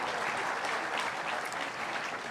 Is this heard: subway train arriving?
no